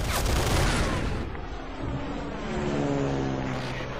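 Dense, continuous gunfire and explosions roll through a tank battle in the video game Men of War, loud and sustained at first, then settling into a steady rumbling barrage with engine-like drones underneath.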